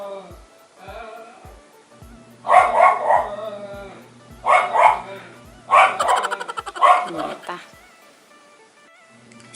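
A dog barks nearby in four loud bursts, each a rapid run of sharp barks with gaps between, over a steady low hum.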